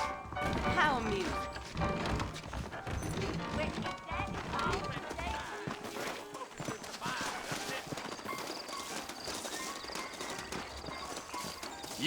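Horse hooves clip-clop in the Red Dead Redemption video game, with a busy rhythm of hoofbeats mixed with clatter and game sound, while voices speak over it throughout.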